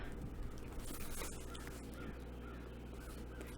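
Crows caw outdoors over a steady low hum, the calls faint and somewhat distant, blended into a dense noisy background.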